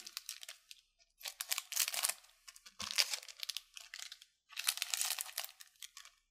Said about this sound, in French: toutes les ouvrir, ça va aller mieux.